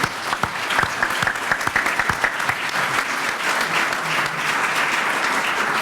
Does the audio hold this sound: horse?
no